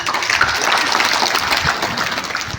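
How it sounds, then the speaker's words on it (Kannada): A crowd at a school Founders Day function breaks into sustained applause, dense loud clapping that carries through the whole stretch without a break. "ಇನ್ನೊಂದು ಚಪ್ಪಾಳೆ ಬರ್ಬೋದಾ?"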